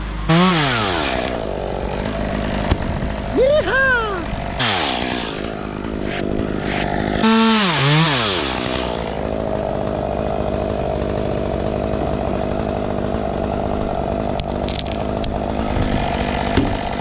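A chainsaw cuts tree branches high in the canopy during tree trimming, engine revving up and down in several rising and falling bursts before settling into a steady idle drone, loud and close.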